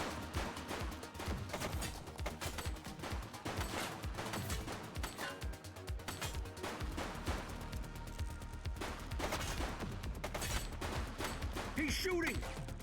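Gunfire in the police game The Precinct, with rapid bursts of shots cracking one after another over a busy, continuous background of action and scattered voices.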